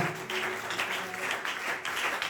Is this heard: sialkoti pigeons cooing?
no